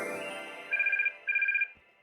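A phone rings with an incoming call, giving two short bursts of a bright electronic trill separated by a brief gap, clear and close against near silence.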